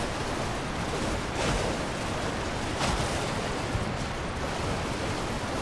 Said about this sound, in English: I really was expecting something behind a giant waterfall like this.